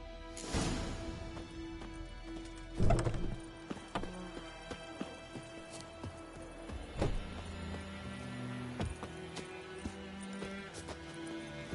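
A horse trots with rhythmic clip-clopping hooves in the video game The Witcher 3: Wild Hunt on PS5, the steady hoofbeats broken by a few louder thuds over faint background game sound.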